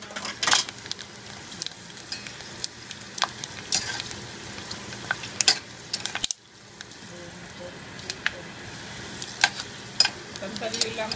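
Dried anchovies (dilis) fry in a pan with a steady, crackling sizzle, broken by sharp spatula scrapes and clinks against the metal; the sizzle drops briefly midway, then resumes at close range.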